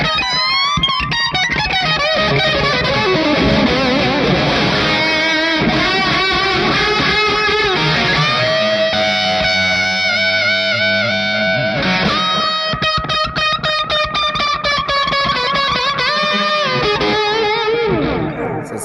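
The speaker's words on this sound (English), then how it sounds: "And combined with distortion, it gets pretty jiggy with that too." Electric guitar played through an effects pedal with distortion, a sustained, heavily processed tone with chords and swelling notes, loud and continuous throughout.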